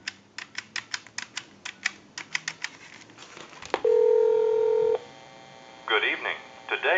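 Dialing a call on a Western Electric Trim Line telephone: a quick series of short touch-tone beeps, a brief steady tone, then the line connecting, with a faint recorded voice at the end.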